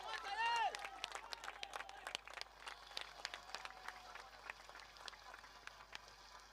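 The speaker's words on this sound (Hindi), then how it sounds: "दोस्तों जरा जोरदार तालियां" Crowd claps and cheers at a local cricket league match, scattered applause over open-air noise, with a whistle or shout at the start and a voice talking through it.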